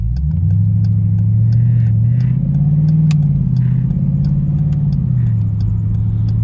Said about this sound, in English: Once I take my turn here, I'll kind of floor it a little bit.